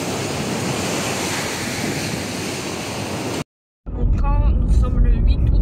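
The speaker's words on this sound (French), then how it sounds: "Elles sont trop bien les vagues." Ocean waves break on the beach at Soulac-sur-Mer in a dense, continuous wash of surf with some wind noise, then cut abruptly to a brief silence before a voice and other close sounds take over.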